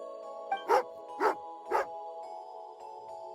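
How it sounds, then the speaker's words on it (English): Three sharp dog barks from the companion dog in Genshin Impact, spaced about half a second apart over a steady game music bed, close and fairly loud. "Oh, angry doggy."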